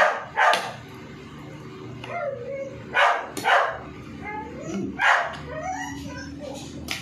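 A dog barks in short bursts at a steady pace, nearby and fairly loud, with people talking in the background throughout.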